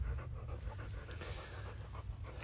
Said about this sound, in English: She's a very good dog.